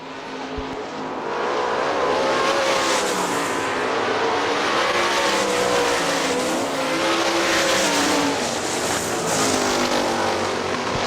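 Loud, steady roar of several 410 sprint car engines at Hartford Speedway Park, Michigan, their pitch swelling and fading as three cars battle past together.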